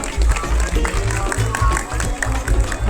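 An audience at a school olympiad award ceremony claps steadily for toppers being called up, a dense, even patter of many hands filling the hall for a few seconds.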